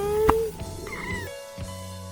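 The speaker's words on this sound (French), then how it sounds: "La rencontre du jour, c'était un petit chaton que les enfants auraient bien aimé emmener." A small kitten meows a few times near a roadside stop on a road trip through Ukraine and Poland, with short high mewing calls standing clearly above a faint background.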